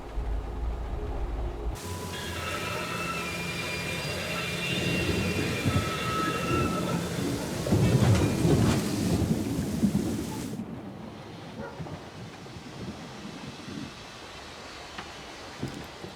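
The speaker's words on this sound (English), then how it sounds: "We can go as soon as this storm's over, probably tomorrow or the day after." Thunderstorm with rain in the video game Syberia: The World Before, steady rainfall with a long rolling thunder rumble that builds midway and then fades to a quieter rain patter.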